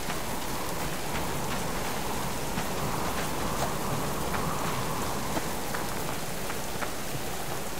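Steady heavy rain patters on surfaces during a storm in the survival game Subsistence, a constant close hiss with scattered sharper drops and no thunder clearly standing out.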